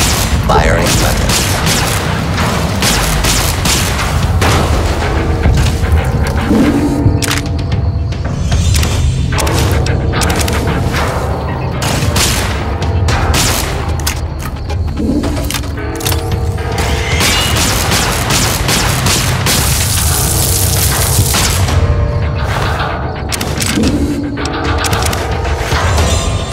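Weapon fire and explosions in the video game Fallout New Vegas at a construction site: loud, dense bursts of shots and booming blasts with mechanical clatter, continuous throughout, with a voice speaking over parts of it.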